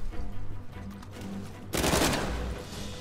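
Shotgun fire from an enemy in Uncharted 4 erupts as one loud, sharp blast with a rumbling tail after a quieter stretch of game ambience.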